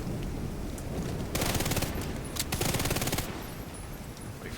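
Striker tank gun in a video game firing continuously in long sustained bursts, a dense rapid rattle of shots that holds for about two seconds at a time, loud and close with no talk.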